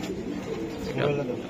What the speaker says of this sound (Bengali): এটা বন্ধুরা 10টা রেস করা একটা কবুতর।